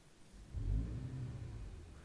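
A 2025 Mercedes CLE53 AMG Cabriolet six-cylinder starting up, a faint low rumble that swells after half a second and settles into a muted idle, no talking.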